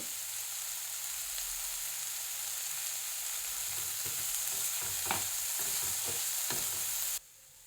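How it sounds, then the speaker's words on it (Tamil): Chopped capsicum sautés in a hot pan, a steady loud sizzle with faint scraping stirs, before it cuts off abruptly near the end. "இப்போ குடைமிளகாயையும் போட்டு வதக்கலாம்"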